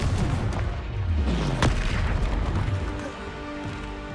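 Explosions from the Confringo fire spell in a wizard video game, heavy booming blasts with a sharp crack near the middle, over a rumbling low roar and a falling whoosh.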